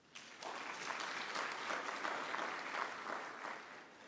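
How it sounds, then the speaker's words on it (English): Audience applause at a university autumn graduation ceremony, a steady wash of many hands clapping that swells quickly and holds at moderate, fairly distant level throughout. "It deserves a round of applause."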